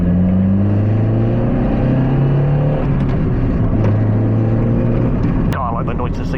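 A Mazda Miata fitted with a new intake and exhaust, in a racing video game, engine droning loudly and steadily with shifting pitch as it revs, with a person talking over it.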